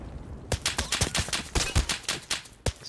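Rapid string of roughly a dozen sharp pistol shots from a TT handgun loaded with PST GZH rounds in Escape From Tarkov, fired in quick irregular succession after a brief pause, loud and close with no talk.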